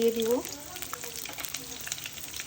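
Chopped onion and salt sizzling in hot oil for a beef and cabbage dish, a soft crackling fry that continues steadily after a brief bit of speech at the start.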